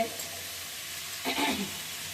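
Potatoes coated in salt and turmeric fry in a hot pan, a steady faint sizzle with a brief louder burst of hissing and stirring partway through.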